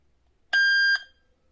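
A Yoosee Wi-Fi IP camera gives one clear electronic beep, lasting about half a second, after its reset button is held; quiet before and after.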